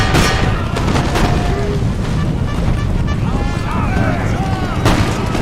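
Artillery cannons fire on infantry during a battle in Empire: Total War, with loud, dense booms and gunfire sounding continuously over a heavy rumbling background and occasional voice-like battle noise.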